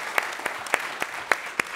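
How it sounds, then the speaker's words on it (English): Sparse, scattered clapping from an audience thanking the speakers at a hackathon event, a handful of distinct claps spaced across a couple of seconds rather than a full roar. "A round of applause for all of our speakers today who helped get things into perspective."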